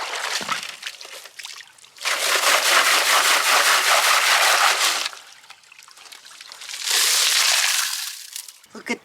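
Digging in gravel littered with broken glass brings long, loud crunching, gritty scrapes in two extended bursts separated by quieter shuffling, close to the ear, with no voices.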